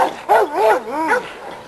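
Pistol, a young male dog, lets out a short run of close, loud barks and yips that rise and fall in pitch, alone with no talk over them.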